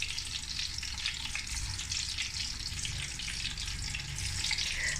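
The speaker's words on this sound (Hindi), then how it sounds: "अब उसी घी में अंडे डालकर अंडों को सिर्फ 5 मिनट हम फ्राई करेंगे।" Eggs fry in ghee in a pan with a constant, close sizzling hiss and faint bubbling crackle that holds steady throughout, with no talking.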